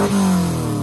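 Square-body Volkswagen Parati engine revving briefly, a close, loud mid-range surge with steady harmonic whine that holds through a short burst.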